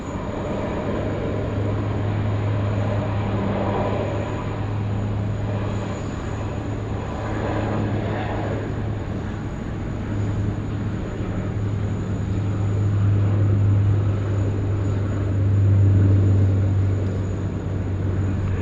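At Sydney Airport, an airliner takes off from runway 16 right with a sustained, distant jet-engine roar that swells slightly toward the end over a low steady hum.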